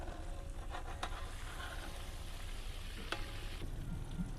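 Manchurian balls frying in hot oil in a kadai, a steady close hiss and crackle with occasional sharp pops, continuous throughout with no voices.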